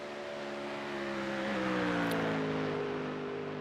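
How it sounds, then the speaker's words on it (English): A Mustang race car at the Spa circuit, engine droning steadily with rising harmonic tones as it accelerates, loud and continuous with no talk. "Really great sound of that Mustang"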